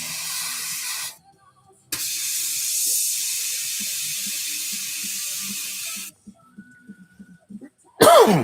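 Coughing from a tickle in the throat, with a sharp burst near the end. Before it come long stretches of steady hiss broken by brief silent gaps, and no words are spoken.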